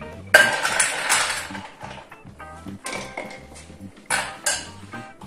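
Clinks and clatter of ice cubes being stirred into a Negroni with Angostura bitters at a bar, a few bright irregular clinks and rattles close by, with no talk.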